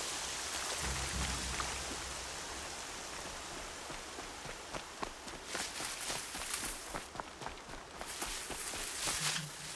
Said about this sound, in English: Ooh, I love the rain.